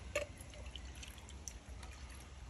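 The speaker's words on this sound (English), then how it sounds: "Just gonna pour that all in" UV cake vodka and Baileys Red Velvet Cupcake liqueur are poured into a cocktail shaker, a soft, close liquid trickle and splash running steadily for a couple of seconds with no talking.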